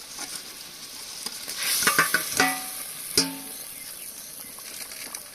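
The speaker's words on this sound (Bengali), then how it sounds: "দশ বারোটা কাঁচা লঙ্কা কেটে রেখেছিলাম দিয়ে দেবো এবার দিয়ে দেবো ভেজে রাখা মাছগুলো" Fried fish and chopped green chillies go into a hot pan and are stirred. A low frying sizzle swells into a cluster of crackling bursts and metal-spoon clatter, then settles back to a quieter hiss.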